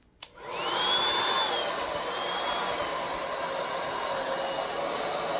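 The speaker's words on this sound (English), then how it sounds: "I do have my blow dryer on low and cool to help control where the paint goes here" A hair dryer set to low and cool switches on and runs with a steady whirring hum and airy rush while blowing acrylic paint during a Dutch pour, close and constant.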